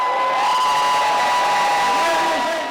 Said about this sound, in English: with the crowd roaring for their GOAT